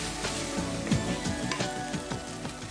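A cup of green peas tipped into a hot oiled pan, sizzling and frying in a steady faint crackle with soft stirring scrapes and pops.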